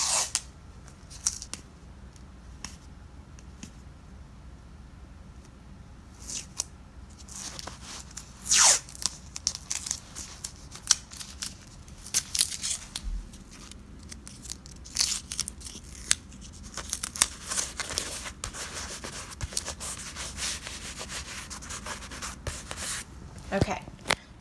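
Tape is pulled, torn and handled while making a watermelon piñata, giving scattered crinkly rips and rustles at close range amid quiet handling noises and occasional talk.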